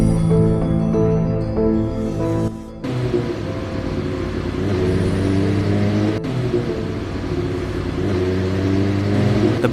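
A loud motorbike engine revs and drones, its pitch shifting, with an abrupt change partway through as the rumble continues.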